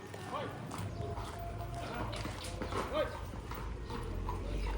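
Horse hooves clip-clop on a broken, littered street near the pyramids in Cairo, a steady patter of steps mixed with traffic and street bustle, with voices talking in the background throughout.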